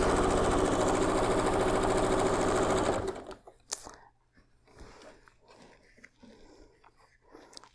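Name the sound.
sewing machine stitching last quilt seam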